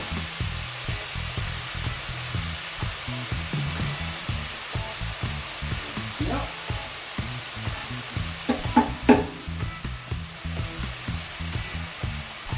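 Noodles stir-fried in a pan with sweet soy sauce, Hong Kong style and meatless, make a loud, steady sizzle, with soft scrapes and stirring knocks that grow busier toward the end.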